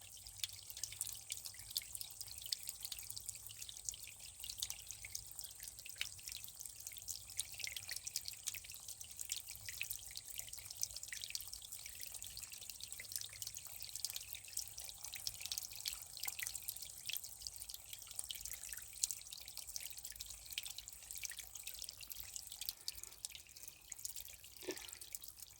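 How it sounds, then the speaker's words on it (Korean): A mountain stream trickles and drips on and on, faint and steady, with soft patters of falling droplets and no voices. "잠시 이 물소리 들으면서 10초만 눈 감고 물소리 들어보십시오"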